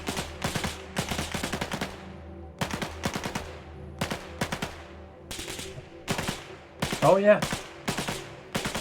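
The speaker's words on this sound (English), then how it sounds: "There's also new, more pronounced snap sounds as you're being shot at, which I will showcase now" Rapid gunfire in the DayZ video game while the player is under fire: sharp snapping shots in quick bursts of several rounds, repeating at roughly one-second intervals, with a brief spoken remark near the end.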